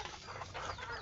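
A chicken clucks in short, busy bursts with a steady low hum beneath it, moderately close and fairly quiet.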